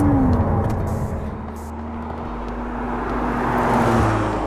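McLaren Artura sports car driving on the road, a steady mid-level engine drone and broad road and tyre rumble throughout, with a low tone shifting midway and swelling slightly toward the end.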